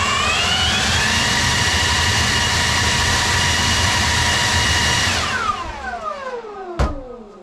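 A Milwaukee M18 Fuel battery blower on its low setting whirs with a steady, even rush of air, then winds down. Its pitch falls away as it stops, and a sharp click follows.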